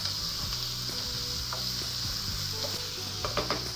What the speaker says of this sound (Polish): Smażymy cebulkę jakieś 2-3 minuty.